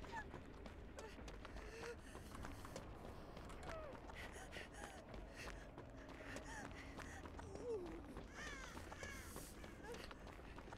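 Crows cawing in the video game Dead by Daylight, scattered faint caws and croaks spread through a dense, steady ambient game soundscape.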